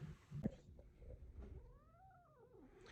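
Single cat meow rising and falling in a drawn-out, faint cry, preceded by a few soft clicks and rustles in a quiet room.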